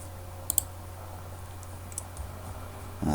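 A computer mouse gives a quick pair of sharp clicks, then a few fainter clicks follow over a low steady hum, close by with no speech.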